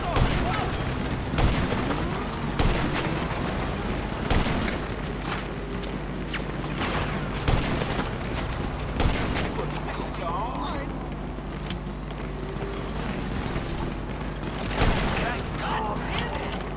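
Sniper rifle fire in GTA 5: several sharp, loud shots with booming tails, spaced irregularly over a constant low game background hum.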